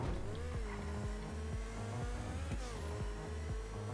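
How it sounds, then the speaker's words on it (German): A sports car in the GTA Online video game is driven hard along a street, its engine revving up repeatedly through quick gear shifts in a steady rhythm, loud and continuous with a faint tire squeal. "So ein bisschen einfahren das Auto, ne?"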